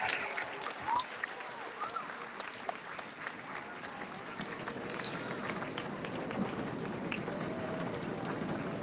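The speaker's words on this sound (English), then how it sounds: "Let's have one more round of applause for all our award recipients today." An audience at a middle school awards ceremony claps for award recipients, sustained applause from a crowd of many hands filling a hall, steady and moderately loud throughout with a few voices mixed in.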